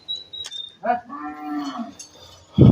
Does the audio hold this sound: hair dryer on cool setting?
no